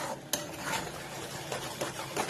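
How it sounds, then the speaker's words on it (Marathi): Danedar barfi mixture being stirred in a pan over a high flame, a short run of scraping and clinking strokes with a faint sizzle underneath. "आता गॅस मोठा करायचा आणि चांगला हलवून घ्यायचा"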